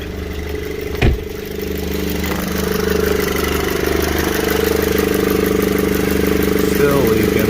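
A vehicle engine idles steadily, close and loud, after oil stop leak was added to an engine that is leaking oil and smoking. The low even rumble holds throughout, with one sharp knock near the start.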